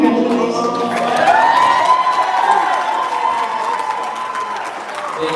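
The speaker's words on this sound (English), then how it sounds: "Give an applause for our maid of honor for his kind words" Wedding guests cheer and clap for the maid of honor after the speeches, a dense crowd swell of applause, whoops and shouts that stays loud and steady throughout.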